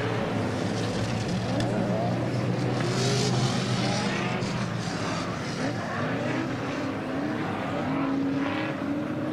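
Drift cars at the Nürburgring Falken Drift Show, a continuous loud engine roar with shifting revs and tyre noise as cars slide down into the Goodyear hairpin, heard from trackside amid crowd ambience.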